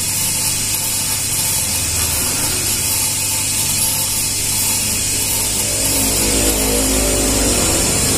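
A manual machine grinds a copy of a camshaft for a Vario 150 from very hard stock, a steady, close, continuous grinding whine with a bright hiss that holds for the full stretch, with no voices.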